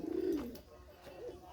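A pair of western pigeons, one a female, coo in low rolling bursts close by, the first phrase loudest and a softer second round following.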